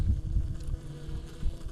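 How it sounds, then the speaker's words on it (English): Honeybees crowding the hive landing board, about twenty at once, make a dense, steady low hum close to the microphone, with small swells in loudness throughout. "About 20 bees trying to get in and out at the same time."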